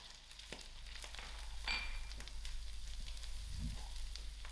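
Onions with curry leaves sizzle and fry in melted butter in a pan for unda makhani, a steady soft crackle with faint stirring clicks, close and fairly quiet, with no one talking.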